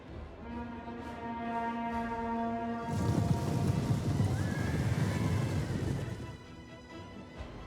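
Horses neigh and whinny amid a Rome 2 battle, clear cries rising over a steady wash of combat noise that swells louder and denser midway through.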